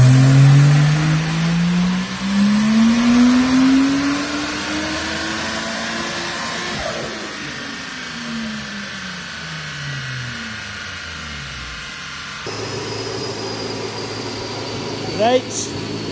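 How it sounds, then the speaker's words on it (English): A Lexus IS200 with added boost revs hard on a dyno, its engine note climbing loud and fast through the pull before easing off into a lower drone, while people talk faintly beneath it. "this is just the last dyno pull because I've done three now and we're making too much power"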